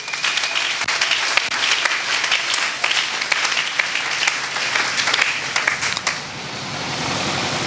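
Church congregation at a spiritual combat service in Mont-Ngafula applauding, dense sustained clapping from a crowd with scattered louder claps, thinning out toward the end.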